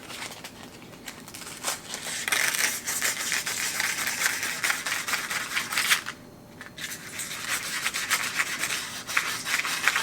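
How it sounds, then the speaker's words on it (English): Sandpaper rubbing back and forth over the edge of a golf club shaft during shaft replacement, a steady close abrasive scratching that runs continuously with a brief pause near the end. "I take some sandpaper and rough up the edge"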